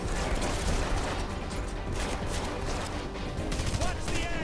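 A mounted turret fires in the Red Faction Guerrilla video game: a steady, loud stream of shots mixed with mechanical clatter, with brief speech buried underneath.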